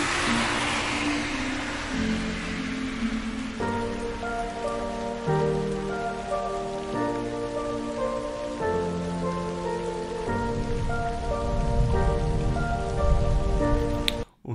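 Rain patters steadily on a surface close by, with a droning engine-like hum underneath and a sharp knock right at the end.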